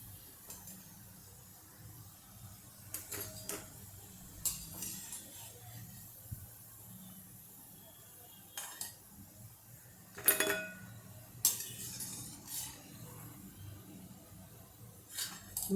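Sporadic metallic clinks and scrapes of a utensil against a hot pan as gota fritters are lifted out after the gas is turned off; quiet and irregular, with soft pauses between strikes.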